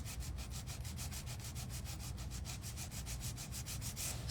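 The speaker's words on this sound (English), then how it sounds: "So I'm going to do 5 steps in filing." A nail file rubs back and forth across a fingernail in quick, even strokes, a steady close-up rasping rhythm with no voices.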